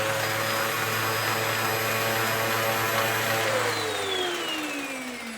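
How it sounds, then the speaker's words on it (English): A vacuum cleaner plugged into a newly wired outlet in an old house runs at a steady loud whine with motor hum, then its pitch slides as it changes speed near the end, with no talking. "now it's the moment of truth with my vacuum cleaner right here"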